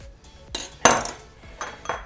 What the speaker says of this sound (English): the way that I cut my avocado, I use a paring knife just to cut little squares